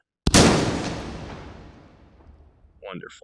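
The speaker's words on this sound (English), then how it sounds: "These are essentially 12-gauge grenades. This first one is more of a fragmenter." A 12-gauge fragmentation grenade shell fires with a single loud blast in the H3VR shooting game, followed by a long decaying rumble, then a brief spoken remark.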